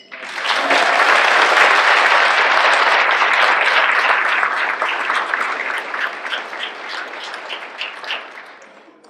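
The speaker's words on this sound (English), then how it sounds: "One more round of applause" A banquet audience at an annual recognition dinner breaks into loud, full applause that holds steady, then gradually thins and fades out over several seconds.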